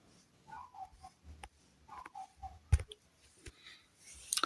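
Mouse clicks on a dashboard's choose button give a few sharp, quiet clicks spaced irregularly over a faint, near-silent background.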